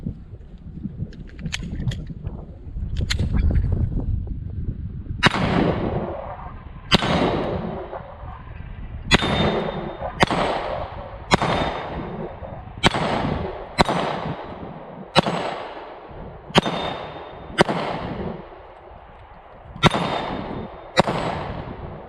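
A Sig P365 pistol firing 9mm rounds at a steel spinner target: about a dozen sharp, evenly spaced shots, each followed by a ringing metallic clang, with a few fainter pops before them.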